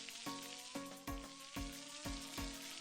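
Onion sautéing in a pan for paksiw na bangus, a soft, steady sizzle marked by a regular series of low thumps roughly every half second.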